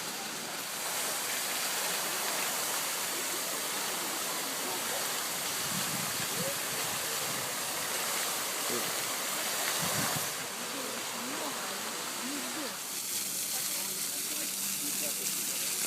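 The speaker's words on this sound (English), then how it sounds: "So here's another one of the fountains with little turtle fountains around it." Fountains at Peterhof, the Tsars' summer palace, splash steadily with a broad continuous rush of falling water, including small turtle fountains, with faint voices of a crowd mixed under the wash.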